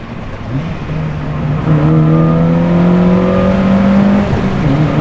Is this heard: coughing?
no